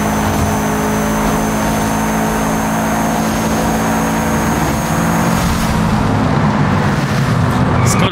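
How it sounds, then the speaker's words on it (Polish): Car engine in Forza Horizon 5 driving through a tunnel, a loud steady mid-pitched drone throughout with rising revs, continuous and close, with a voice talking over it. "no ten samochód ma fajny dźwięk"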